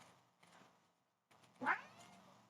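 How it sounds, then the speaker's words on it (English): Cats meow indoors: soft, scattered faint sounds lead up to one clear, fairly close meow with a rising-then-falling pitch, followed by quieter rustling. "I've got naughty cats everywhere."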